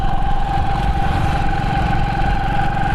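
A Hero Honda Splendor motorcycle engine runs steadily at a constant close, loud level with a low, even throb and no talk over it.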